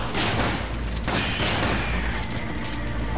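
Repeated gunfire from a shotgun blasts in the video game Resident Evil 5, a dense, loud barrage of booming shots layered with mechanical clatter, with no talk over it.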